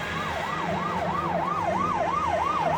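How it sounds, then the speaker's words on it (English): A police siren wails outside, a steady up-and-down sweeping tone cycling evenly and without pause, loud and piercing over a low rumble, with no voices. "A police siren, right outside, real, piercing."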